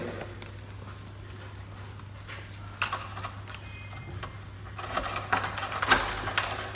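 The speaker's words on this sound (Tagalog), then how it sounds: "meron akong susi" Keys jangle as light metallic clinks and rattles at a house door, growing busier toward the end over a low steady hum, with no talk.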